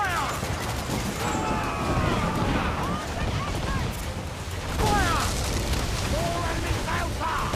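Ship cannons firing in the Assassin's Creed Black Flag video game: booming broadside blasts and rumbling impacts over constant sea-battle noise, with shouting crew voices mixed in.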